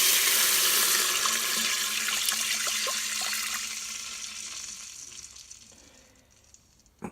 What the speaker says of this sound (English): So 2 cups goes in the bottom of your Instant Pot.